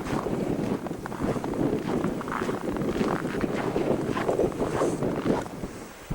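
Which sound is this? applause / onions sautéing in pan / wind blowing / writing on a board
wind blowing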